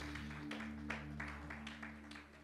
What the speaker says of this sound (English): can we give God the best clap of praise?